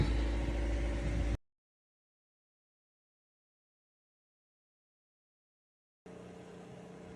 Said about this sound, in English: Ford engine is running great. Has a new water pump, and everything's rocking along.